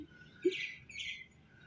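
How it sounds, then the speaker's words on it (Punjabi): An Asian koel calls in a Punjabi village. A few faint, rising whistled notes come from some distance, with quiet ambient hum underneath. "ਕੋਇਲ ਦੀ ਆਵਾਜ਼ ਵੀ ਬਹੁਤ ਪਿਆਰੀ ਆ ਰਹੀ ਆ"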